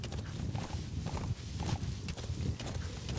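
Horse hooves clip-clop steadily at a walking pace in Metal Gear Solid V, a rhythmic series of close, dull hoof strikes over a rough outdoor ground bed.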